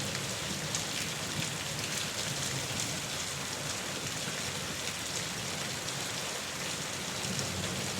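Steady rain falls continuously in a dense, even hiss of drops, with no other sounds standing out.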